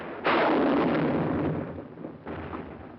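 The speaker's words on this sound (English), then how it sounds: "Our own artillery was brought to fall within 100 yards of our front-line elements." Artillery fires in a World War II battle at San Pietro. Two heavy, loud booms land a couple of seconds apart, each followed by a long rumbling decay.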